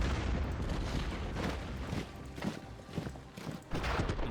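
Artillery bombardment in the World War I strategy game Commander the Great War: a series of dull booms and rapid thuds rolls over a steady rumbling backdrop.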